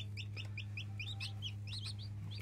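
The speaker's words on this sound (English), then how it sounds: "those are happy chicken noises." Baby chicks in a brooder under radiant heat panels cheep in quick, high-pitched peeps, several birds overlapping close by over a steady low hum.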